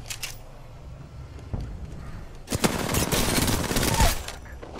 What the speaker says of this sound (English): I'm shooting from behind too.